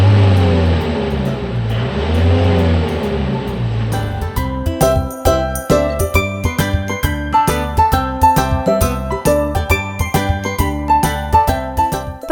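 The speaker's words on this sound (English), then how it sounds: "Garbage truck." A toy garbage truck plays a wavering, revving engine effect, then a loud, bouncy electronic jingle of repeated tinkling notes carries through to the end, with no voices.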